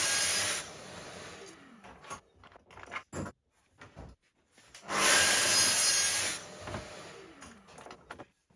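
A track saw cuts rebates into a wooden picture frame in two loud, sustained passes. Each run spins down into a descending whine, with clunks and handling sounds in the quieter gap between them.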